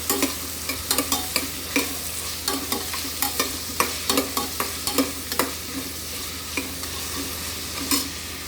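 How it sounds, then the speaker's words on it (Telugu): Onions, green chillies and curry leaves fry in a pan for a Bangalore chow chow curry, a steady close sizzle cut by many crisp, regular stirring clicks and scrapes. "ఇప్పుడు మనం కట్ చేసుకున్న ఆనియన్స్ పచ్చిమిర్చి వేయాలి అలాగే కరివేపాకు ఒకసారి ఫ్రై చేసుకుందాం"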